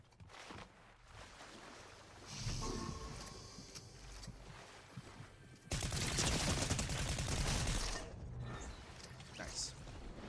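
Distant and then louder gunfire in a superhero video game, a sustained rattling volley mixed with mechanical game noise and a voice speaking in the background.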